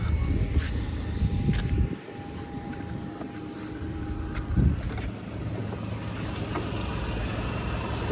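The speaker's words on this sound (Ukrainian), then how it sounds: "Слухаємо двигун." A Volkswagen Golf 5 engine idles in a low, steady rumble, with a faint hum and a few brief knocks and shifts in level along the way.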